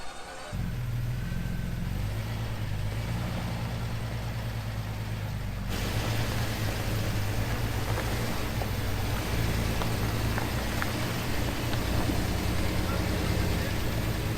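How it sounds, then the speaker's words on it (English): A Jeep's engine rumbles low and steady as it creeps backward on a rough off-road trail, a close, continuous drone with no pauses. "Can you back that Jeep up super slow?"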